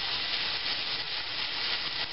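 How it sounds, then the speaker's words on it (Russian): Zucchini and meat fritters fry in hot oil in a pan, a steady close sizzling hiss that runs evenly through the whole stretch with no talk over it. "Сейчас будем обжаривать оладушки."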